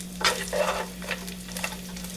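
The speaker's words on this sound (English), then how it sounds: "So I'm just going to keep stirring them like this for about 5 to 7 minutes," Food frying in a pan while being stirred, giving close scraping strokes and a soft sizzle over a steady low hum, with no talking.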